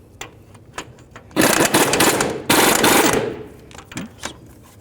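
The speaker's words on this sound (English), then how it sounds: "Now we're going to remove our caliper bracket bolts." Impact wrench removing the brake caliper bracket bolts on a 2007-17 Ford Expedition: two loud rattling bursts of about a second each, close by, with quiet clicks of tools before and after.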